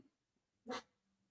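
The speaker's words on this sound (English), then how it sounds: "I have no idea what they are barking at." A single short, sharp dog bark, fairly faint, in an otherwise quiet setting.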